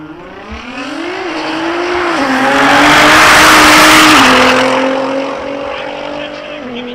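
Japanese V6 twin-turbo drag car launching at a drag strip, its engine note rising through a loud swelling roar with shifts, peaking mid-run then fading as it pulls away, an announcer's voice faintly beneath.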